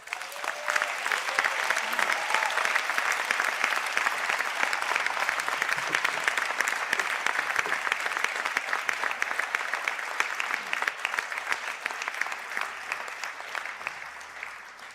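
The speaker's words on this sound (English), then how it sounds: "I ask the graduates of Bachelor of Architecture and Bachelor of Arts in Architectural Design to stand for a round of applause." A conferring ceremony crowd claps for standing architecture graduates in a long, dense, even round of applause that holds steady at full strength from start to finish.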